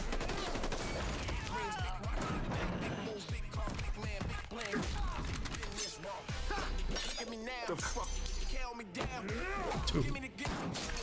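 Rapid gunfire and ricochets from the animated series Invincible crackle in dense bursts, mixed with crashes and loud action effects throughout, while people talk over them.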